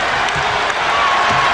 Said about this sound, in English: And again the crowd trying to rev up the home club